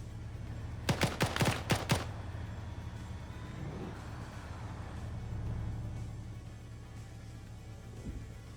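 A short burst of rapid gunfire in a multiplayer shooter, five or six sharp shots in quick succession, followed by low engine-like rumble and ambient game noise with no talk.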